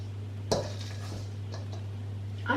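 A spoon clinks against a bowl while rock cake batter is gently mixed with milk, with two sharper knocks and soft scraping over a steady low hum.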